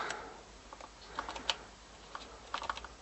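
A mini RF keyboard with AZERTY layout and built-in trackball clicks under light typing, quiet scattered keystrokes in uneven bursts, close by and alone.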